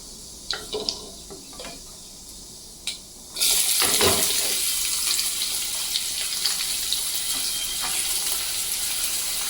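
Cumin and mustard seeds hit hot oil in a kadhai and burst into a loud, bright crackling sizzle after a few quieter clicks, then keep spitting and popping steadily.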